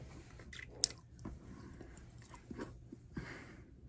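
Dry chalk treat crunched in light, brittle snaps, several soft crunchy bites spaced across a quiet close-up recording.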